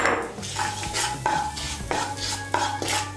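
Spices and asafoetida stirred in a pan for a vegetarian cabbage kofta curry: repeated scraping strokes of a spoon against metal over a soft sizzle, steady and close, with no voices.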